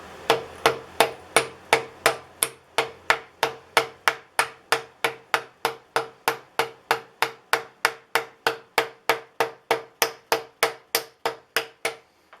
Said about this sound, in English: That's why I'm using a bigger socket to evenly tap it across.